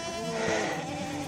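Goats bleat at a farm barn near the feeders along the fence, one drawn-out nasal cry rising and falling over about a second, close and fairly loud, with no speech.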